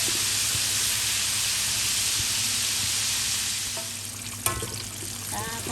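Barbecue-coated chicken tenderloin deep-frying in hot oil, a loud dense continuous sizzle and crackle that eases slightly toward the end, with a brief utensil knock near the close.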